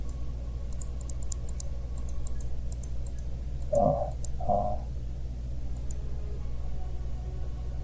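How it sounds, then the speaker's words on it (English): Computer mouse clicks come in quick, faint bursts while someone plays Dominions 5, ticking repeatedly above a steady low hum, with a couple of soft muffled thumps near the middle. "I kept clicking around looking at the title"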